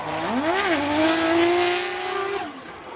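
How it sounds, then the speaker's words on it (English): A race car on the Suzuka Twin Circuit during a qualifying run revs loud and close, its engine pitch rising, holding steady, then dropping as it shifts, all with no talk. "I try not to talk when the car is going so you can hear the car."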